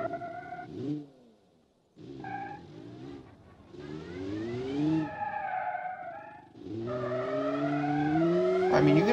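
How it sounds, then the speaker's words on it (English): A low-torque car in the Automation video game doing a burnout on grass, its engine revving up and down in rising and falling pitch sweeps with tire squeal, loud and alone. "Yeah, I can do a burnout in the grass."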